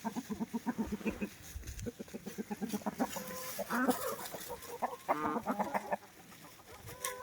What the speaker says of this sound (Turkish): Hmm, genç horozumuz. Başka bir tane genç horoz